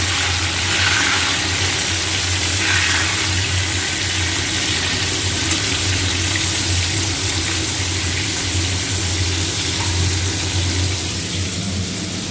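Potatoes sizzling in hot oil in a pan for a simple aloo dum, a steady, continuous frying hiss with a low background hum, no talking.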